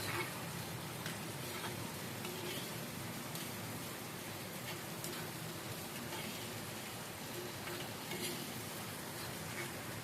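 Sliced onions sizzle with salt in a pan for a chemmeen (prawn) roast, a steady, soft frying hiss with faint crackles that carries on evenly with no talking.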